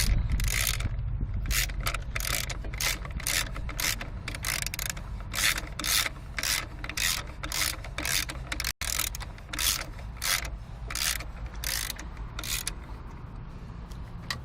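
Wrench ratcheting while bolts are tightened during a power steering and alternator belt change on a 1997 Subaru, a steady run of close, regular clicking strokes with a brief break partway through.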